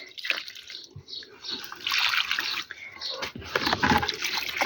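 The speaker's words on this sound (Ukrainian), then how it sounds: "Просипала і тепер полю трошки водички." Water poured from a container onto the soil around a rose bush in a garden, uneven splashing and trickling pours in close bursts with brief pauses.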